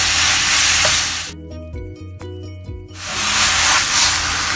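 Minced pork, a mix of fatty and lean, frying in oil with mushrooms in a wok, a loud steady sizzle that drops out briefly mid-clip before the frying hiss returns, close and alone.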